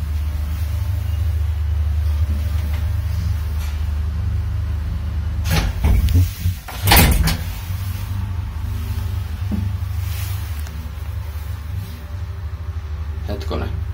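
A 1974 Valmet-Schlieren elevator with manual doors in an apartment building in Vantaa, Finland, runs with a steady low hum, broken midway by a few sharp clunks and thuds as the doors operate, and no talk is heard.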